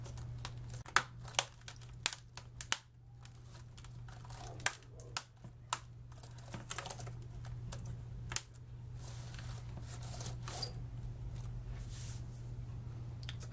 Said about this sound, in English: Pop in your keyboard.